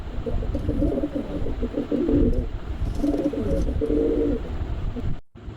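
Pigeons at a home loft cooing in repeated low, throaty bursts, several calls overlapping close by, with faint background noise and a brief dropout near the end.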